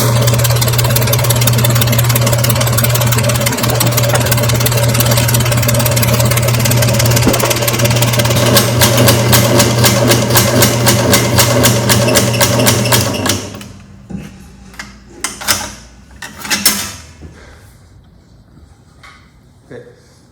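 A hand saw retoothing machine punches teeth with a fast, rhythmic mechanical clatter over a steady motor hum for about thirteen seconds, then stops, leaving scattered knocks and handling sounds.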